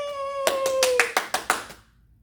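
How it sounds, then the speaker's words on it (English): Six or seven crisp hand claps in a quick, even rhythm, following a sung tone that ends as the claps begin. "clap your hands."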